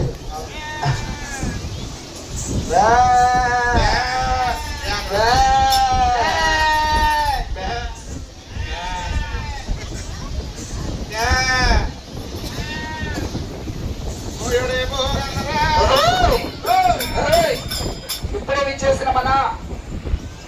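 Several sheep bleat repeatedly, loud and close, their wavering cries overlapping amid a rumbling background with people talking, at the Beerappa festival in Chengicherla.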